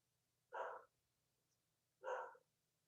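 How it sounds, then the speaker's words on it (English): A pet dog barks twice in a backyard, two short muffled woofs about a second and a half apart, distant and faint against quiet background. "Oh, that's my dog barking."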